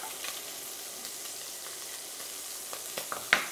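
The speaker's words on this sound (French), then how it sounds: "Dès que les cubes de lardon fumés sont bien grillés, on les sort, on ajoute les petits oignons" Pearl onions frying in a pan of smoked bacon fat, a soft steady sizzle with faint crackles and a few clicks of stirring near the end.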